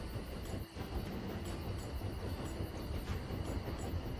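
A train rolls steadily along in the game Tiny Rails, giving a continuous rumbling rail noise with faint wheel clatter, no voices.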